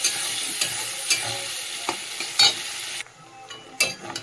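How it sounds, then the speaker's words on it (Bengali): Katla fish fat sizzling in a pan of oil, with close stirring scrapes and crackles, the frying noise dropping sharply near the end before a few last spatters. "মাছের তেলটাতে যে ভালো করে যে ভেজে নিয়েছি"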